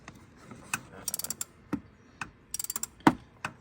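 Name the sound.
removing a long starter bolt from an Acura RSX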